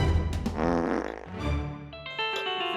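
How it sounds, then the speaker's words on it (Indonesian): A loud, drawn-out fart with a buzzing, sputtering quality, rising and falling over nearly three seconds before trailing off, in a comedic sketch setting. "Kan kita denger ente kentut"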